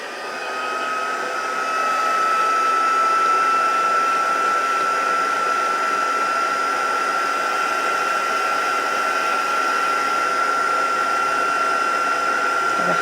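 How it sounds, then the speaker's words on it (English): A crafting heat tool blows steadily to dry watercolour on a card, a loud, even whirring drone with a high whine that holds constant after a brief ramp-up at the start. "I'm just going to use my heat tool"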